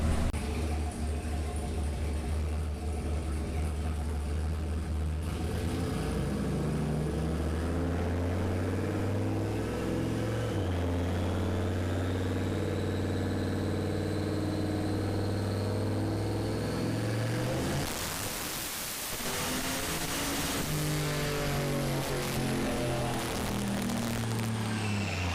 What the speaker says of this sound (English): he's gonna make a second gear pull